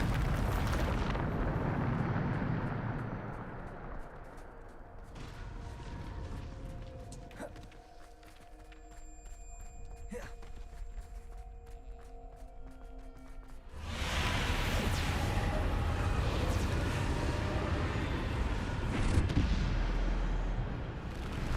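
Bombarda spell explosions in the video game Hogwarts Legacy come as broad, roaring bursts of blast noise, with a quieter ringing stretch in the middle before another heavy rumbling burst.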